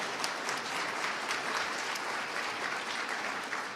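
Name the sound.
audience applause at governor's debate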